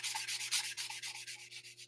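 Steady back-and-forth rubbing of a foam sanding block, a rhythmic scratchy hiss repeating several times per second, close and fairly quiet.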